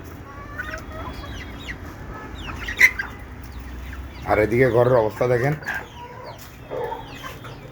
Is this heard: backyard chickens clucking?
yes